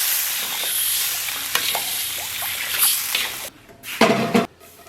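Pixian bean paste and chili sauce are stir-fried over low heat with a close, soft sizzle, scraping spatula strokes and brief louder bursts near the end.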